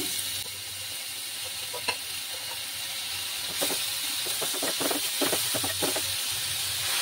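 Fenugreek leaves frying with spices in a pan for a garlic methi egg dish give a steady close sizzle and hiss, broken by a run of scraping stir strokes in the second half.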